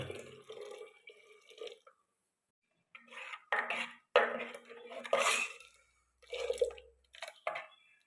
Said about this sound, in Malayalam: അരപ്പിന്റെ കുറച്ച് വെള്ളം കൂടി ഒഴിച്ച് കൊടുക്കുക